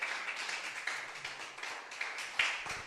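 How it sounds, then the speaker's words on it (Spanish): An audience at a religious talk claps loudly and steadily, a dense wash of many hands close by that swells in a few brighter bursts, with no voices over it. "¿Será que alguien de verdad puede dar un aplauso fuerte a Dios por eso?"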